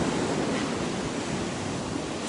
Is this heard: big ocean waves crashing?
yes